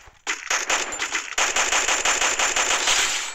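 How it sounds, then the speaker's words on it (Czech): Machine gun fire from the video game Free Fire, with a German MP40 mentioned, comes as a loud, rapid stream of close shots, starting with a short burst, a brief break, then a sustained, steady volley. "O, někdo střílí, aj, někdo po mně střílí."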